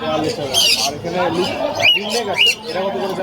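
A green Indian ringneck parrot lets out sharp squawks at a busy bird market in Mirpur, Dhaka, with short shrill calls mixed among nearby voices talking.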